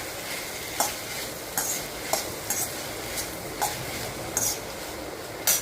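Sliced carrots and peas being sautéed in a pan for a veg soya pulav: a steady low frying sizzle with periodic sharp scrapes and clinks of a spoon stirring against the pan, close and alone.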